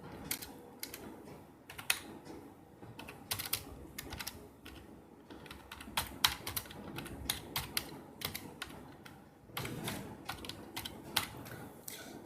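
Typing on a computer keyboard, a quiet, irregular stream of close key clicks and taps with short pauses, alone without voices.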